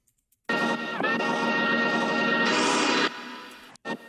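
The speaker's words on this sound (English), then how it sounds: "the bubbly sounds you hear when it cut off here" A Serum synth line with a disperser effect gives a bubbly, sliding-attack texture. One dense sustained tone holds for about two and a half seconds, brightens near the end, then cuts off with a short blip after it. No talking.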